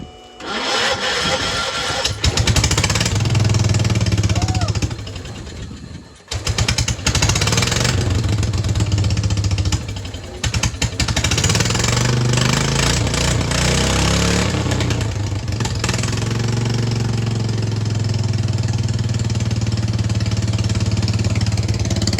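A 1985 John Deere 214 lawn tractor engine with a custom exhaust stack runs steadily and loudly at idle for the whole stretch, with a brief dip and sputter partway through.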